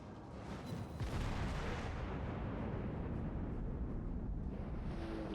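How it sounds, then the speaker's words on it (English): Naval shell fire in World of Warships during a ranked battle, a deep rumbling boom swelling at about one second and then a sustained low roar of distant gunfire with no voices. "Because the Kongou is being shelled, so the Kongou isn't doing the capping right now."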